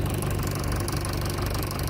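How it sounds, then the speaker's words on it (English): A small air compressor, powered off a tractor through jump leads, inflates a tractor's rear tire with a loud, steady, unbroken droning rumble that continues throughout. "So this little compressor is just thundering along, putting air in that tire."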